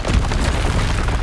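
Bombarda and Confringo spell explosions from Hogwarts Legacy go off in a dense, continuous barrage, with heavy low booms and crackling bursts layered together at close range and steady loudness.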